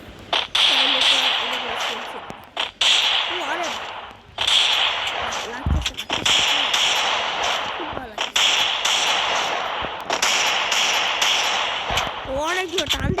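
Desert Eagle pistol shots in a shooting video game ring out as sharp cracks spaced every couple of seconds over a constant wash of game noise, with someone talking through much of it.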